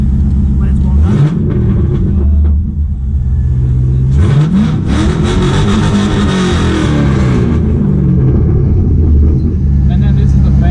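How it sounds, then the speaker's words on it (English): An LS-engined Nissan S13 drift car sits at idle, then its engine is revved twice, each blip climbing and falling away. It sounds loud and near, and people talk around it. "reckon you can give me a little rev?"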